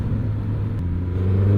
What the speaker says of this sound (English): I do like the sound of this exhaust